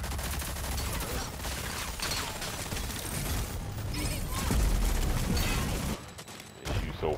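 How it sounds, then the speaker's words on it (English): A Gatling gun in the shooter Rogue Company fires in a long, dense, rapid burst that sustains loud mechanical gunfire for several seconds before briefly dropping off and resuming. "Gatling gun."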